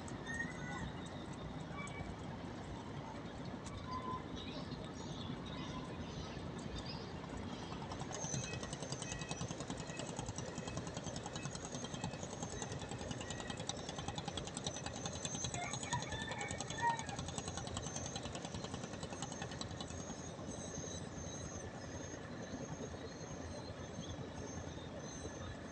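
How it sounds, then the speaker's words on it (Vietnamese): A stone-carrying barge motors along a river toward the Rạch Miễu bridge in Bến Tre, its engine a faint, steady, distant chugging drone with a rhythmic thump that holds for the whole stretch. Someone speaks over it. "Đây là một chiếc xà lan chở đá chạy về cầu Rạch Miễu nè các bạn"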